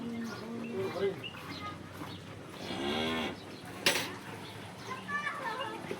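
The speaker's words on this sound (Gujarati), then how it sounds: "જોઈ શકો છો આ લાલ ગાય દોવાઈ ગઈ છે" A red cow that has just been milked and calved the day before, on a dairy farm in Banaskantha, lows in a long drawn moo midway, with birds and soft voices of people talking nearby.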